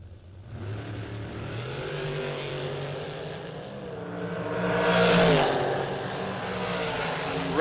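Drag racing cars launch down the strip at a Mutt and Jeff race, engines building from a moderate roar to a loud peak as they pass, then fading into the distance.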